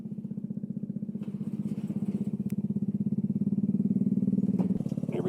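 Custom Kawasaki Z125 motorcycle being ridden, its small engine putting out a steady, close, pulsing drone that builds slightly in loudness across the stretch, with no talking.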